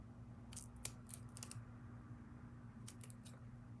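Scissors cut card paper for a handmade card in a few quick, crisp snips: a cluster of short clicks early on, a pause, then another brief burst, close and fairly quiet over a faint steady hum.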